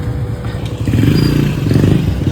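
A motorcycle with a flat tyre rumbles close by, its engine chugging with a rough clattering, scraping undertone as it moves off, loud and steady over a couple of seconds.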